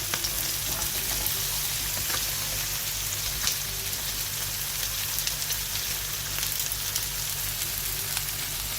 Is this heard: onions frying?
yes